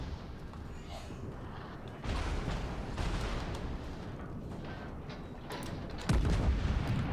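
Secondary guns on a warship in the naval game World of Warships fire in a volley of booming shots. Several heavy thuds and bursts stand out over a constant rumbling battle backdrop.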